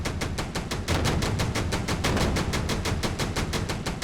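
Rapid automatic gunfire in a video game rattles in a fast, even burst lasting several seconds, loud and close, with no talking.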